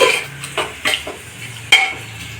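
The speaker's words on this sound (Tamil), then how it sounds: "இப்போ இதெல்லாம் சேர்ந்து வதங்கட்டும்." Tomatoes and spices for chicken biryani are stirred and sautéed in a pan, with several sharp scraping strokes of a spoon against metal over a faint sizzle, close and alone.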